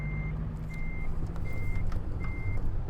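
A reversing alarm on a truck in American Truck Simulator, four evenly spaced steady beeps over a low engine idle, clear and prominent.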